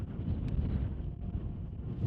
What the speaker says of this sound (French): comme tu vois, il y a un petit peu de vent